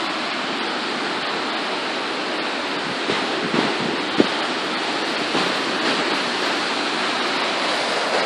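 Rushing rapids on the Trinity River, a steady broadband roar of white water filling the whole stretch, close and constant, with a few small splashes and bumps partway through and no voices.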